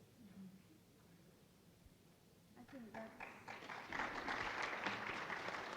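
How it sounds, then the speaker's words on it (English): Thin audience applause at an academic event on women in research, starting faint under a speaking voice and swelling into a modest patter of clapping. "I was expecting a better clap."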